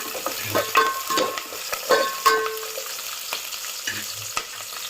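Onions frying in oil for a chicken fry piece biryani, with green chilies and curry leaves added, crackle and sizzle close by amid the scrape and clatter of stirring in the pan.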